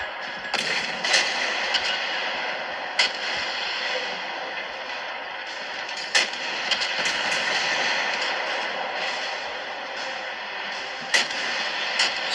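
Naval gunfire from ships in the video game World of Warships: several sharp, loud reports scattered across a dense, steady roar of engine and sea noise, with a voice talking at times.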